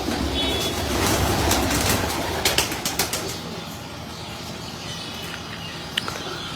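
A breeder's pigeon flaps its wings close by in a dense, rustling burst for the first couple of seconds, followed by a few sharp flutters and handling knocks against a steady background hum.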